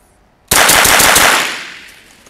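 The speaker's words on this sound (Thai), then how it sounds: "จัดก่อนซะหน่อยเลยนะ5นัดดูสิ ปืนจะทำงานเป็นอย่างไรนะครับ" A Sig Sauer 522 .22LR rifle fires a rapid string of five rounds at close range, the sharp reports merging into one loud burst before a fading echo.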